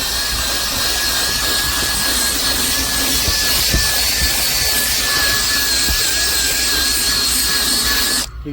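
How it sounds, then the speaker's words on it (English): A drill brush scrubbing car carpet: a loud, steady whirring motor with a high-pitched whine and coarse scrubbing noise runs nonstop for several seconds, then cuts out at the end. "So the drill brush is going in this direction."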